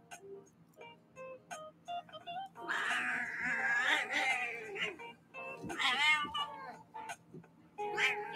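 A cat meows repeatedly indoors, with short chirps giving way to long, drawn-out wailing cries, fairly close and loud, with a few quiet background sounds between the calls.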